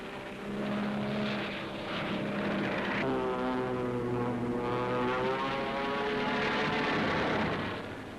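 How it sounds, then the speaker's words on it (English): American bombers fly over under heavy anti-aircraft fire during a 1944 wartime raid, a continuous droning aircraft engine roar with rising and falling harmonic tones, loud and sustained throughout. "as American bombers under heavy ack-ack fire swept in to seek out the enemy"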